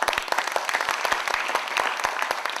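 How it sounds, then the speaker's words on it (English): Audience applause at a thank-you moment during a performance event at GD Birla, a dense patter of many hands with sharp individual claps standing out, steady and moderately loud for the whole stretch. "Big round of applause."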